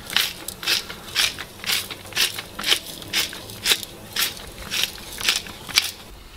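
Pepper mix being ground in a hand mill, a series of about a dozen evenly spaced crunchy ratcheting twists, close and clear against a quiet background.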